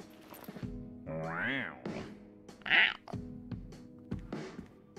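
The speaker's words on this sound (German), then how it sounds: "Ich finde das süß, dass die Katzen hier sitzen." House cats meowing in the No More Heroes 3 video game, several short separate meows with rising and falling pitch, faint and spaced over a few seconds against a quiet background.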